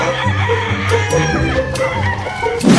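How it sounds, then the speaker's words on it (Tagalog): A chicken clucks in short bursts close by, with a rooster-like call rising at the end over a noisy background. "nagkaroon po si Francis ng manok"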